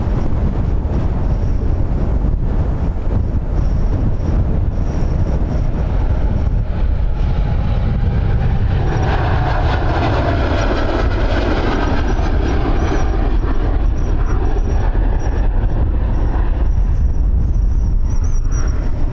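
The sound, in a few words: wind blowing into the microphone at the airport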